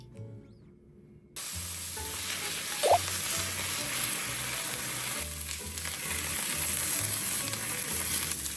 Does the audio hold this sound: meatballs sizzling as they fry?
yes